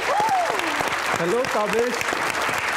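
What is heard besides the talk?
audience applause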